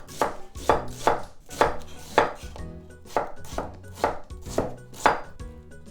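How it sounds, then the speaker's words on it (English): A knife slices half an onion on a cutting board for Japanese yaki udon, about a dozen crisp, evenly paced chops landing close and clear with no talk. "And then cut this up in slices."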